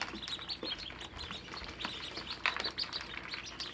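Call ducklings just arrived by shipment peep rapidly and continuously in a brooder, a close chorus of high, bright chirps with occasional rustling.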